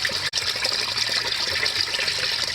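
Water drains steadily out of a Massey Ferguson 35 Turf Special tractor, a loud continuous splashing gush close by with a brief break near the start.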